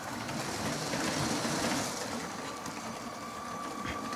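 A Lego train running slowly over a switch track, a continuous faint mechanical whir and rumble of the small motor and wheels on plastic rails, close and steady.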